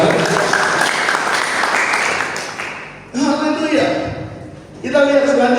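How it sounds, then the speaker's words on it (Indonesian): Sunday worship congregation breaking into applause for God, a loud burst of clapping that fades, with voices and music rising over it toward the end. "Beri tepuk tangan buat Tuhan."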